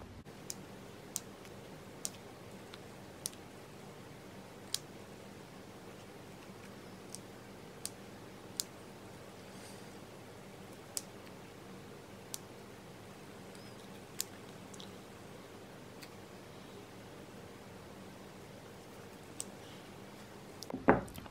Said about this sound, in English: you're gonna cut around the shape of your beadwork